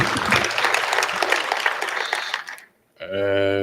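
Audience applause at a property sector conference on public works and infrastructure, dense clapping for about two and a half seconds that cuts to a short silence, followed by a loud sustained musical tone.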